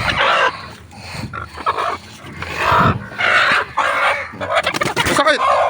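Rhode Island Red brooding hen clucking and grumbling repeatedly at close range, in short agitated bursts mixed with handling noise.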